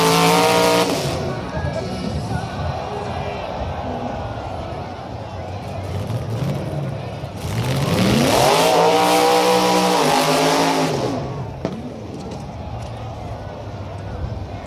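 A 1940 pickup rat rod with an LS engine doing a burnout at a car event, a loud sustained engine roar rising in pitch with tire squeal, then dropping back into crowd noise.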